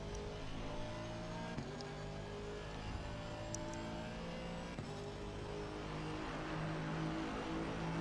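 Several race cars battling closely in a sim racing video game, a steady layered drone of engines at sustained revs with small shifts in pitch, continuous and fairly loud with no talk.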